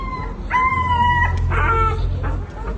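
Dogs howl and whimper shut inside a vehicle, muffled and enclosed, with long wavering howls overlapping against a low rumbling background.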